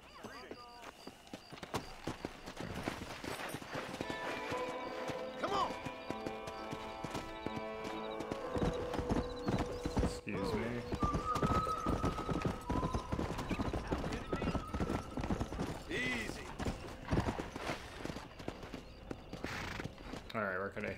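Steady clip-clop of horse hooves in Red Dead Redemption runs throughout with a whinny partway through, set against background game music and voices.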